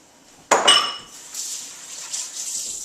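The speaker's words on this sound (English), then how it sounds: "A little rinse of my hands." Hands rinsed under a kitchen tap while preparing steak alla pizzaiola: a sharp clink of dishes comes first, then a soft, steady stream of running water continues nearby with no talking.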